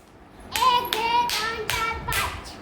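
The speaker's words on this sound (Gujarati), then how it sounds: "પાંચ નંબરનું તો પાંચ તાળી પાડો બેટા" Children clapping hands together in a classroom counting activity, a run of five sharp claps in a steady rhythm, close and clear, with no talk in between.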